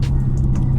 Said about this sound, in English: A lot of times I just ride in silence just to hear the car.